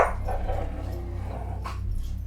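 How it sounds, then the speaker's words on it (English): Dogs playing tug of war growl and snarl close by, in a continuous rumbling stream with a few sharper bark-like bursts. "The dogs are being loud."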